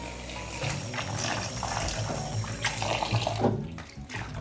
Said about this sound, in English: Rinse the chives a few times with water until it's thoroughly clean